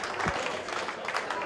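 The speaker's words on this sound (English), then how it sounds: "Belmont there clapping away" Spectators at a women's world team shootout pool match between New Zealand and England break into brief applause after a late finish, a steady patter of clapping with light crowd murmur.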